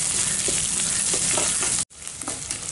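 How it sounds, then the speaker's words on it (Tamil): Shallots and curry leaves frying in oil in a pan, a dense, loud sizzle close by with faint stirring taps, broken by a brief cut of silence before the frying resumes; no voices. "வெங்காயம் வதங்கிட்டு இருக்கிறப்ப கருவேப்பிலை 1 கப்பு சேர்த்திடலாம்."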